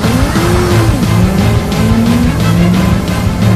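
A fast car roars close by with a loud, revving engine and rising and falling pitch, tires squealing briefly as it races past.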